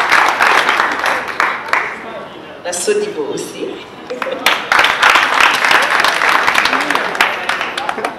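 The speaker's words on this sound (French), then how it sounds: "Applaudissez pour les différents sponsors" A crowd at an African Integration Day cocktail event applauds the sponsors, loud dense clapping filling the room and briefly giving way to an amplified announcer's voice before surging again.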